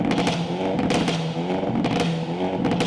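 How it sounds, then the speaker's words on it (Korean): A Hyundai Elantra N with factory pop-and-bang exhaust runs steadily, a loud low engine drone with intermittent crackling pops scattered across a few seconds, no voices. "엘란트라 N은 고성능 N 모델답게 순정인 상태에서도 다른 아반떼와는 다르게 팝콘 배기 이라는 소위 팝앤뱅 큰 배기 소리를 내고 있는데요"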